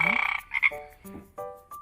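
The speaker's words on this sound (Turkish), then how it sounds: "O kurbağa." A children's educational toy plays an electronic frog croak, a bright, rattling burst followed by several short, tonal toy-like croaks, fairly close with no speech over it.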